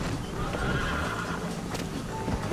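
Horses in Red Dead Redemption whinny and gallop with hooves clip-clopping steadily over a continuous rumble, loud and close throughout.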